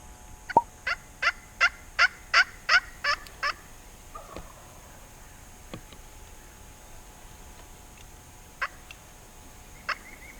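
A wild turkey hen gives a quick run of about eight clucking yelps in a spring field, then falls quiet except for a few scattered distant calls and clicks.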